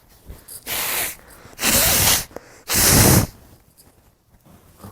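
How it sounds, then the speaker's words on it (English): Someone blows their nose three times in quick succession, each a loud, close, hissing blast lasting about half a second, followed by quiet sniffles. "I just need to blow my nose"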